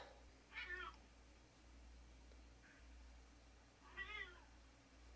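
Two faint cat meows, a few seconds apart, over a low steady hum in an otherwise quiet room, with a tiny chirp between them.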